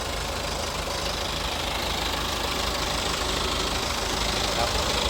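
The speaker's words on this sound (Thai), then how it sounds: "ตอนนี้ผมจงใจเปิดเครื่องให้ดูนะครับ ใครบอกว่าเครื่องดีเซลเสียงดัง มันเสียงดังประมาณหนึ่งแต่ไม่ได้ดังมากนะครับ" A black 2014 BMW 320d Sport Line with a Twin Power Turbo diesel engine idles nearby, giving a steady, even clatter and hum that holds constant throughout, with no pauses or revving.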